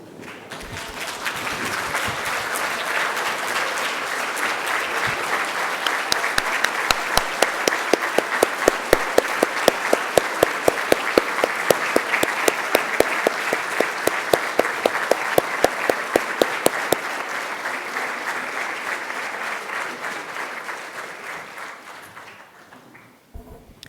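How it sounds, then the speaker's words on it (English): Loud, sustained applause from a standing audience at a medical school white coat ceremony, a dense wash of clapping that swells and holds for about twenty seconds with some sharp rhythmic claps cutting through, then tapers off. "and give them a round of applause"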